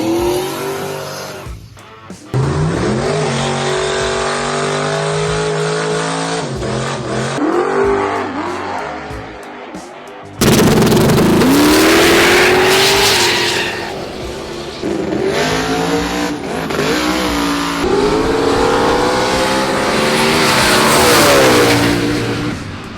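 Chevrolet Silverado trucks with LS V8 engines rev hard and loud, with sustained rising and falling engine roars in two long bursts and a short gap between them.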